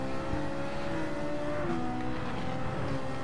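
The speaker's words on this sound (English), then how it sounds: "I enjoy the engine sound of the Ferrari." Ferrari race car in Gran Turismo 7, engine screaming at high revs with steady rising pitch and a quick gearshift dip, dense and continuous, with faint tire noise behind.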